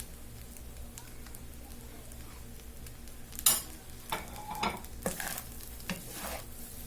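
Cauliflower florets frying in a pan for gobi fried rice, with low steady sizzle and intermittent stirring scrapes and clatter of a spoon against the pan.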